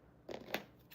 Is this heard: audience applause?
no